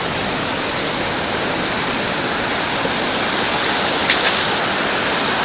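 Ocean waves and backwash rush up and drain back over a sandy beach while someone scoops for silver, a steady broadband roar with a couple of brief splashes, close and continuous with no talk.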